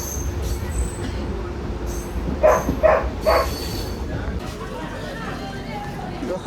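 A passenger train rolls along on a journey from Bhojo to Dimapur, heard from inside as a constant rumbling, rattling drone with a few brief squealing tones and voices murmuring in the carriage.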